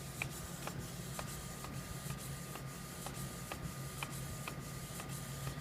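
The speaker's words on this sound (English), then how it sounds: "Okay, we're printing this out." A Canon Pixma 3570 inkjet printer at work on a page: a steady low mechanical whir under a fast, regular series of faint clicks as the print head sweeps back and forth, quiet and with no talking.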